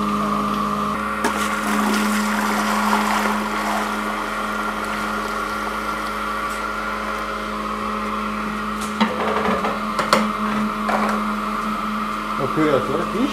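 A milk cream separator on a village farm hums steadily as it spins milk into skimmed milk and kaymak cream, with a constant motor drone and occasional clatters and voices over it.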